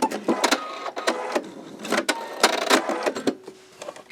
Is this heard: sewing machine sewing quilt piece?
yes